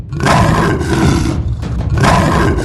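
A cartoon tiger lets out two loud, close roars, each long and rumbling, separated by a short gap.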